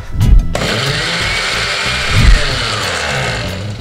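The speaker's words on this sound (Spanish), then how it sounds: "Y ahora sí, a licuar." A kitchen blender whirs steadily while it purées a sauce with toasted sesame, a pinch of cumin and a splash of broth. It starts abruptly after a few low thumps and keeps a loud, even motor drone throughout.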